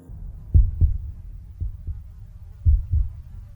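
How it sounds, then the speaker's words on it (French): A deep heartbeat opens a song from the video game Resident Evil 7, low thudding double beats pulsing at a slow, even rhythm, close and prominent against near silence. "La chanson commence avec un battement de cœur,"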